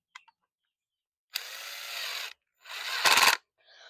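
A power drill whirs in two bursts, the second ending with a harsh grinding rattle as a screw seats, with small clicks before and after.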